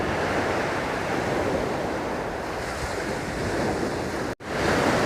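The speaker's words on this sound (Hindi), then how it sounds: "ये आवाज़ सुन रहे हो आप? ये इस पानी की आवाज़ आ रही है।" Sea waves at Manora Beach in Karachi surge and wash ashore in a continuous loud roar mixed with wind buffeting the microphone, with a brief dropout near the end and no voices.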